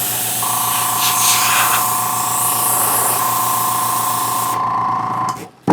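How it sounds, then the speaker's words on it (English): An airbrush hisses steadily as it sprays paint into the edges and corners of a prop cigarette dispenser from The Fifth Element, with a compressor hum beneath it. The spray runs close and unbroken for about five seconds, then cuts off abruptly. "I do want to get these edges in the corners."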